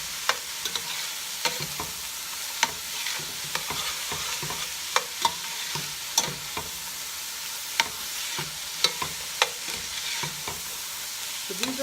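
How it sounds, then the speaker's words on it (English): Celery and carrots sautéing in a soup pot, an even crackling sizzle broken by frequent spoon-stirring scrapes and taps, close and steady with no voices. "let's add the remaining vegetables here. We've got the celery and the carrots. Get them going."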